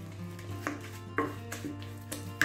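Sticky toffee pudding batter with egg is mixed in a bowl, with a handful of irregular, fairly close knocks and scrapes of the utensil against the bowl over a low steady hum, with no talking.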